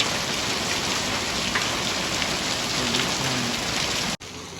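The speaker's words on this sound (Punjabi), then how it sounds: "ਦੇਖੋ ਮੀਂਹ ਪਈ ਜਾਂਦਾ ਹੈ" Heavy rain falls steadily during a hailstorm over farm fields, a loud, dense, continuous hiss of drops on surfaces that cuts off abruptly near the end.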